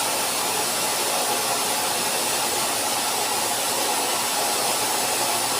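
A pet blower roars steadily and loudly as it dries a husky after its bath during basic grooming, a dense continuous rush with no breaks and no voices.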